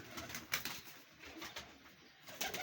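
A teddy pigeon coos in soft, repeated low calls, fairly quiet and close, with a few faint rustles between the coos and no speech.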